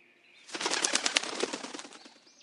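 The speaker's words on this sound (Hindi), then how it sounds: "रंगी चिड़िया वहां से उड़ गई" Cartoon bird flapping its wings as it flies off, a burst of fluttering wingbeats swelling in and then fading over about two seconds, close and alone with no talk.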